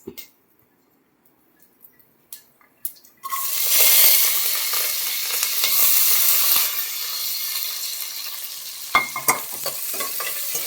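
Onions, garlic, chillies and curry leaves hit hot oil for mango-leaf dal, bursting into a loud, steady sizzle after a few seconds of near silence with faint clinks, then crackling on with occasional sharper pops near the end.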